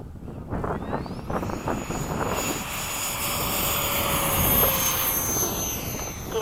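A Freewing 90mm F-104 electric ducted-fan model jet spools up and takes off under cloudy skies, a rising whine with a sweeping high tone growing louder and more roaring over several seconds, with no speech.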